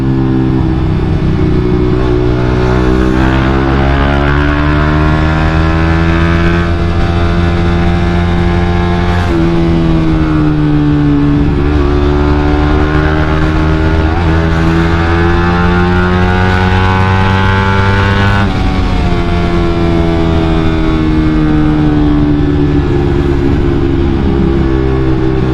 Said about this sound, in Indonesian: Gue tuh kangen banget sama suara knalpot ini asli.